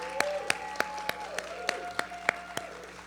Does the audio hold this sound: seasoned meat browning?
no